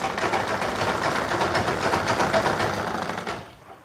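A sewing machine stitches a dress with a double-layer ruffle, running in a fast, steady, loud mechanical whir, then stopping near the end.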